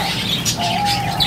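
Sialkoti-blood pigeons on a rooftop loft give soft cooing calls with a few chirps amid faint ambient noise and a light flutter, moderately close, with no voices.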